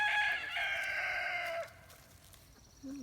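A farm rooster crows once, loud and close, a long strained call that fades out, followed by a brief quiet and a short clucking note at the end.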